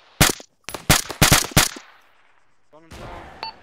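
Video-game gunfire in a Syria combat scenario comes as several loud, close bursts of automatic fire in quick succession, then a lull and a fainter later burst with a brief electronic tone.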